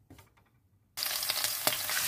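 After a moment of near silence, garlic and shallot hit hot oil in a large pan and a loud, steady sizzle takes over with a sharp crackle.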